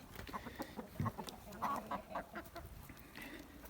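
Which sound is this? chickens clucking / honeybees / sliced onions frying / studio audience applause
chickens clucking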